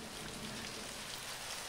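Steady, faint rain falls continuously during flooding in Aceh, where the Krung Daroy river overflowed, with an even hiss and no other sounds.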